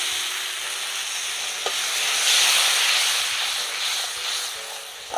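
Egg curry masala with whisked yogurt sizzles in a pan as water goes in, a continuous hissing fry that swells in the middle, with a faint tap or two and no speech.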